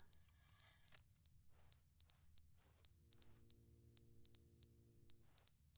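A clock with a dead battery beeps repeatedly, sending out short, high electronic bleeps in quick pairs and bursts. The sound is faint and on its own.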